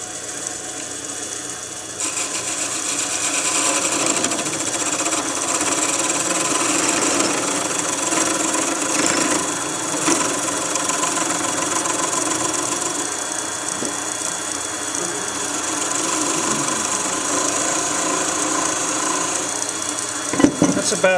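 A wood lathe spins steadily while a chisel thins a Christmas tree ornament, giving a continuous close motor whine with scraping tool contact throughout and a brief louder knock near the end.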